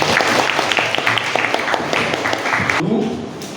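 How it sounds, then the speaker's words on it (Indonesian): Students in an Indonesian classroom clap together during a lesson. The clapping is brisk and scattered, then stops abruptly near the end, followed by a brief voice and room noise. "Oke, beri tepuk tangan."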